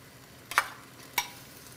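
Noodles with shrimp, garlic and tofu tossed in a pan for pad thai, with two short scraping stirs about half a second apart over a faint low sizzle, close and quiet.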